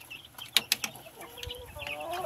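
Black Australorp and Rhode Island Red chickens on a rural farm give a few short clucks and calls with a brief mechanical rattling, close by and fairly quiet, with no talking over them.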